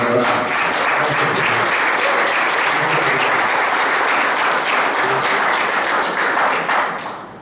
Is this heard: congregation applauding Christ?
yes